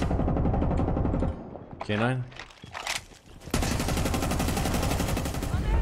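A new gun in Rainbow Six Siege fires in rapid automatic bursts, loud and close, broken by a short pause with a spoken word before dense gunfire resumes.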